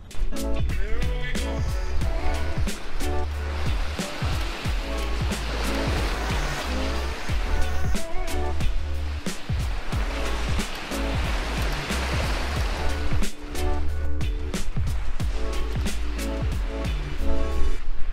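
Waves slosh and break against a sailing boat out at sea, a continuous rushing wash with irregular splashes and a low rumble running throughout, loud and close for the whole stretch.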